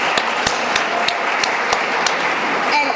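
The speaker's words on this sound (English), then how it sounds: "Let's give it a round of applause for the Oklahoma Women's Coalition" A reception audience applauds the Oklahoma Women's Coalition, a steady wash of many hands clapping at moderate distance with a few sharper individual claps standing out, continuing without a break.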